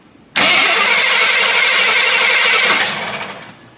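Starter cranks a Jeep engine that has sat unused for 25 years, a loud, steady whirring spin lasting about two and a half seconds before winding down, without catching.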